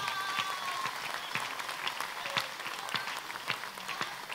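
A congregation at a prayer vigil applauds, a dense sustained patter of many hands clapping at once, steady and moderately loud across the whole stretch, with faint voices mixed underneath.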